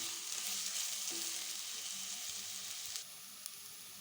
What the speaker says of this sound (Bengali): এটা ভালো করে সতে করতে হবে যাতে আমার পেঁয়াজটা সামান্য ব্রাউন কালার হয়ে যায়